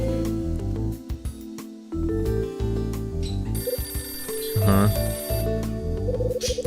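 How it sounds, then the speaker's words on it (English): A telephone rings in the Last Window video game, its repeated electronic ring sounding over game background music, loud and close. "That appears to be the phone."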